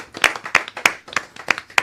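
Brief scattered clapping from a few people in a radio studio, about six sharp claps in quick succession, close and light.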